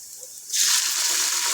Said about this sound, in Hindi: प्याज जो है वो सुनहरा ब्राउन हो गया तो पानी ऐड करेंगे।